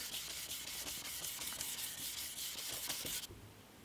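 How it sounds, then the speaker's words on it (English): Hand sanding a hardened superglue (CA glue) finish on a small coffee table with fine-grit sandpaper, a continuous close hissing rub with quick back-and-forth strokes that stops abruptly near the end. "I've been sanding for a while now, maybe half an hour."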